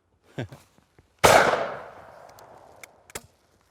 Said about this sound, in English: We're going to try the top barrel first now, and that will change the dynamics of how the gun recoils